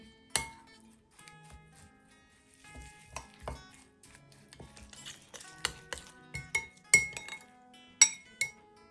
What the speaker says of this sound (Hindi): इन सब मसाले को अच्छी तरह मिक्स कर लेंगे